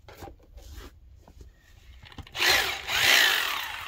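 A power drill bores into the concrete floor during a sump pump basin install, a loud, harsh, steady grinding that kicks in partway through after quieter handling knocks and rustles.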